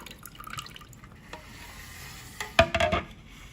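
Water poured off the top of white bean paste, faint trickling and drips that swell into a short splashing pour near the end, close and quiet.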